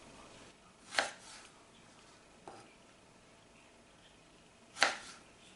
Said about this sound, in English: Just gonna make some little slices just for the top.